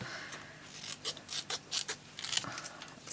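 Scissors snip and rasp through scrapbooking paper, a string of short, crisp cuts and rubbing strokes, close and fairly quiet, with no talk.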